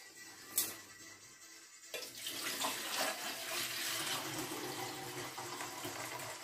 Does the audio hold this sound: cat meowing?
no